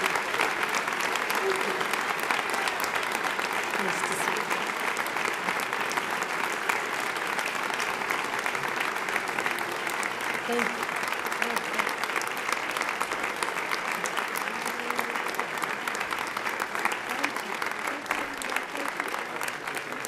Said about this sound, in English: Ladies and gentlemen, another round of applause for Governor Michelle Lujan Grisham.